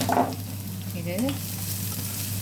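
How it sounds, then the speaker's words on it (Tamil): Onions sauté in oil with cumin and fenugreek for homemade mutton curry, giving a steady, even sizzle over a low hum, with a brief voice speaking. "வெங்காயம் வதங்கி வரட்டும்"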